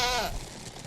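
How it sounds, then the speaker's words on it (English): A single short, nasal bleat from a spirit goat in the Hyrule Conquest mod for a video game, heard close and clear, quickly fading into quiet game ambience. "He's able to spawn all these spirit goats."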